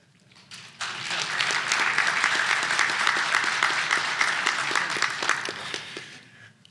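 A crowd breaks into steady, sustained applause lasting several seconds before tapering off.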